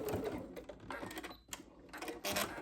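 A sewing machine stitches elastic at the side seams of a sleeve in short, quiet, uneven bursts of rapid clattering, close by.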